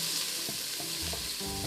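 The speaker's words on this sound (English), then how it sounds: "toss in my onions and let those start cooking" Chopped onions sizzling in olive oil in a large pot, a steady close crackling hiss with small stirring knocks underneath.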